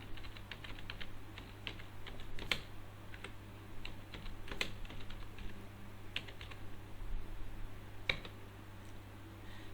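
Someone types form details on a computer keyboard, producing faint, steady clicking keystrokes with occasional louder taps over a low background hum, and no voices.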